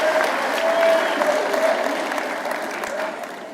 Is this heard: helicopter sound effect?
no